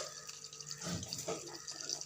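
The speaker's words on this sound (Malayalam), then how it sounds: "അപ്പോൾ എണ്ണ തിളയ്ക്കുന്നുണ്ട്." Oil heats in a pan with curry leaves ahead of frying anchovies, a soft, close crackling sizzle with scattered pops over about two seconds, quiet and without talk.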